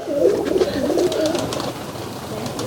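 Rajshahi Giribaz tumbler pigeons coo in continuous low, throaty rolling calls, fairly close and loud, layered over a noisy loft background.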